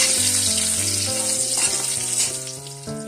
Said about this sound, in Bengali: আমি ঘি দিয়ে কাজু আর কিশমিশটা একটু ভেজে নেব।